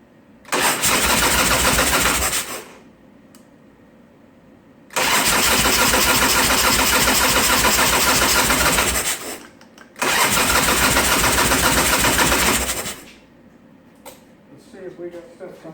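A 1990 Harley-Davidson Sportster motorcycle with a fuel problem cranks in three long, loud bursts of a few seconds each, separated by quiet pauses, without catching and running.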